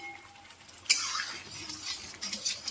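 A spoonful of ghee hits semolina halwa being stirred in a pot, a sudden sizzling burst followed by softer frying and spoon scrapes, fairly quiet overall.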